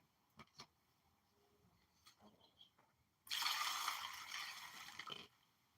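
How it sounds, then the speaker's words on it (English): Water poured into a gold pan of paydirt while panning for gold: a few soft clicks and taps, then a sudden close rush of pouring water lasting about two seconds before it stops. "And some more water."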